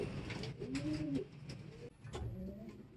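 Racing pigeons coo in a short run of low, throaty, wavering calls, close and moderately loud, with a brief pause partway through before the cooing picks up again.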